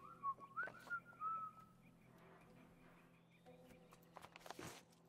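A character in The Last of Us Part 1 whistles a few short, clear notes near the start, followed by faint footsteps and quiet movement in the game scene.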